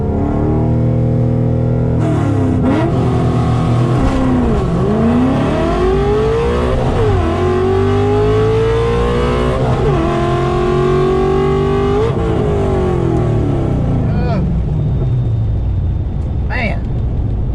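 A car in a burnout box holds its engine at high revs, loud and close, with repeated rising and dipping pitch sweeps as the tires spin, then the engine note drops away toward the end.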